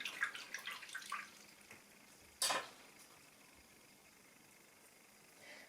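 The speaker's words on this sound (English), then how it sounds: "I'm going to rinse that off" A brush is rinsed in water with soft dribbles and faint clinks, then a single short splash, all quiet and close with no talking.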